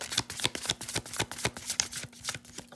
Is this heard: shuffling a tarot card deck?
yes